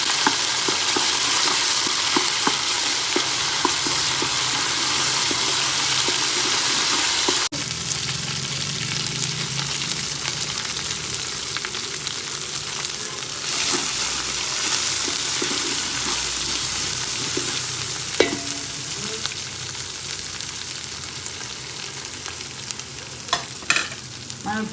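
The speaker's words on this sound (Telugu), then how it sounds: "ఇది కూడా మంచి అల్లం మంచిగా ఫ్రై కావాలి." Ginger frying in oil for mutton dum biryani, a loud continuous sizzle with stirring scrapes, close and alone, easing slightly after a sharp change partway through.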